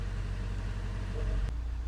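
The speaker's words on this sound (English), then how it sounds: "you can hear the engine speed increases" A VW Transporter T5 2.0 TDI diesel engine running steadily during an EGR test, a low, even drone with slight rising engine speed, close and continuous, with a brief click near the end.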